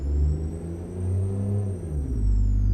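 A Freightliner Argosy truck in American Truck Simulator, engine revving in first gear: a deep, loud drone whose pitch climbs, dips and swells again over a few seconds, with no talk.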